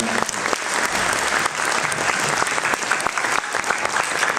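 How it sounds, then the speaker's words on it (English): A crowd at a poetry and devotional singing event gives the singers another round of applause, loud dense clapping close up and sustained throughout, with a voice faintly underneath. "Can we get another round of applause for these murshids?"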